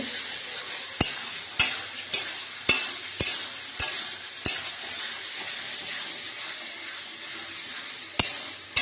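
Bombay duck fish being sautéed in spice paste, a steady close sizzle broken by sharp spoon or spatula scrapes and knocks against the pan, coming in a loose rhythm, with no talking.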